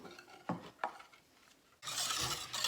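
Custard being stirred in a pot on the stove, a few scraping strokes followed by a louder burst of bubbling and sizzling as it heats, alone with no talk.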